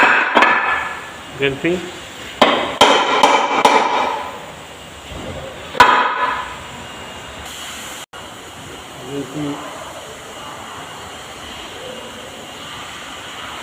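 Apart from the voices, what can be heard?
hammering to loosen automatic gearbox housing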